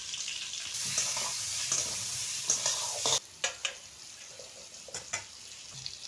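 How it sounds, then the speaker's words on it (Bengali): Pointed gourd frying in oil in a wok, a steady bright sizzle with a few sharp scrapes and stirring knocks; the sizzle drops lower partway through and the stirring clatter continues. No talking. "এবার কড়াইতে তেল দিলাম, এবার পটলটা লাল লাল করে ভেজে নেব।"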